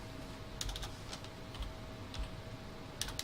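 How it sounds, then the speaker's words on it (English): Someone types a search on a computer keyboard in a few short bursts of close, crisp key clicks with pauses between them, over a steady low background hum. "If I type this in"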